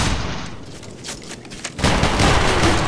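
Massed musket volley from a line of soldiers in the multiplayer game Battlegrounds 3, a dense crackling burst of many shots landing together and sustaining loudly near the end, with noisy battle din before it.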